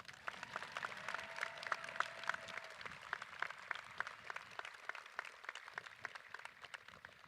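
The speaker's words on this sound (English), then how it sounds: "please give a round of applause to BVN's administrative team, Kelly Curley, Corey Cox, and Mike Moss" Scattered applause at a BVN Class of 2024 graduation ceremony honoring the administrative team, sounding thin and somewhat distant, with sharp individual claps over a soft crowd murmur and a faint tone early on.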